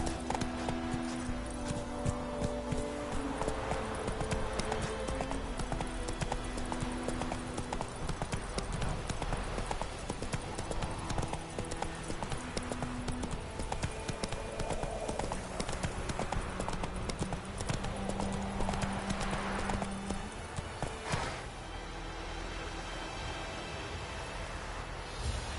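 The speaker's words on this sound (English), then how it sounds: "Whoa there, Roach." Horse hooves clip-clopping steadily in The Witcher 3 video game, a continuous rhythmic gallop and trot heard over game music for the whole stretch, with occasional faint voices.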